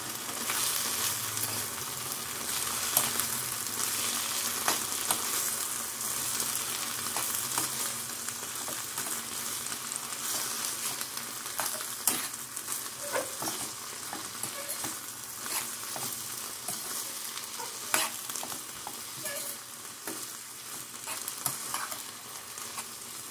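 Onions fry in a pan for chicken donne biryani, a continuous close sizzle with frequent spatula scrapes and clicks from stirring, steady throughout with no talk.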